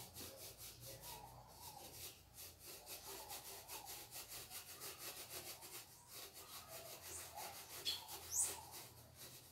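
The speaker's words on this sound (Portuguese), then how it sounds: "Aí vamos fazer um furo bem no meio dele aqui," A hole is worked into the centre of a homemade cement pot by hand, making a faint, steady run of rhythmic scraping strokes that repeat evenly throughout, with no talking.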